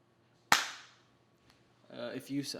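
A single sharp hand clap rings out close and loud, with a short decaying tail, followed after a pause by a person talking.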